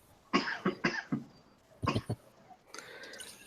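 A faked cough heard as several short harsh bursts in two clusters, fairly close, followed by throat noise and low background murmur.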